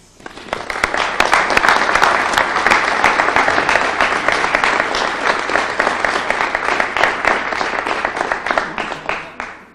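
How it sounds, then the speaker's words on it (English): An audience bursts into loud, continuous applause at a Boston public-safety event as a state representative is introduced, dense clapping rising quickly and holding steady throughout. "Keep that applause for the bill."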